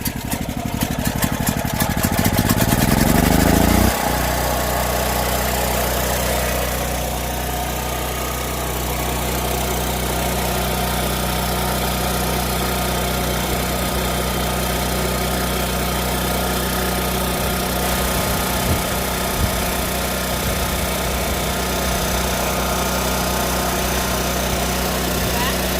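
A small push-start engine with choke on a food truck setup fires up after a brief cranking rattle, then settles into a steady, loud, even idle that runs on alone for over twenty seconds.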